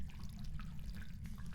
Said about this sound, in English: is it only when the ghost interacts with the faucet?